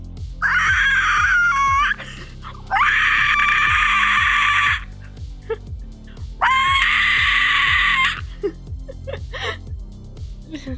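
A voice imitates a shrill animatronic screech, letting out three long, loud, strained shrieks in a row with short breathy gaps, a low buzzing hum running underneath throughout.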